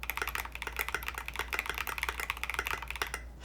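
Fast continuous typing on a Smurve80 mechanical keyboard kit fitted with curved-profile SA keycaps, crisp clacky keystrokes in quick uneven rhythm, close-up over a low hum, stopping just before the end.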